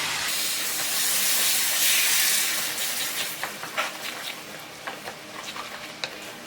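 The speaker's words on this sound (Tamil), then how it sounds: "கொஞ்சம் கொதித்து அந்த எண்ணெய் பிரிஞ்சு வரட்டும்." Ground tomato paste bubbles and simmers in oil in a pan for a vegetable curry, giving a broad close steamy hiss that eases off into scattered spitting pops and splutters.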